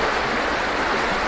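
River current rushing steadily at a spot where gold is panned beneath tree roots, a dense, even broadband roar heard close and loud with no breaks.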